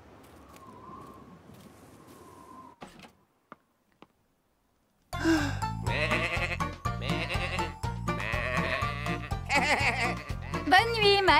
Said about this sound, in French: Quant à Flore et Max, ils ont enfin retrouvé les moutons